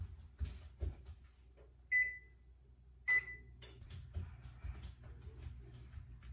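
An oven gives two short, bright electronic beeps about a second apart as it is set to preheat to 350 degrees Fahrenheit, heard close over faint kitchen clatter and room noise.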